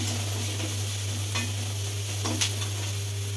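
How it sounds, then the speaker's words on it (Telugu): Curry leaves fry in a pan for a curry leaf chutney, a soft, steady sizzle with a couple of brief stirring scrapes over a constant low hum. "కరివేపాకు వేయించుకుంటే"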